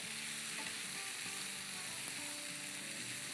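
Caramelizing ingredients fry in a pan while being stirred and mixed together, a constant dense sizzle with faint scraping strokes underneath, close and even in loudness.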